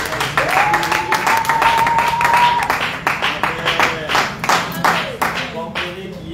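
A church congregation in Brazzaville claps and applauds in a steady rhythm, a room full of hands close by, with a sustained tone and voices mixed under the clapping.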